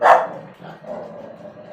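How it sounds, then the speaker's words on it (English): A pet dog gives one loud, close bark, followed by a lower, trailing yelp or growl indoors during a home paint and decoupage session; a voice briefly speaks. "Sorry about the dog barking"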